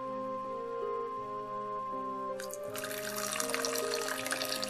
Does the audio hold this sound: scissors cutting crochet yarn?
no